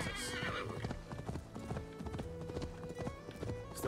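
Horse hooves clip-clop in a steady galloping rhythm with a neigh, in the video game Assassin's Creed Valhalla, loud and close under game sound.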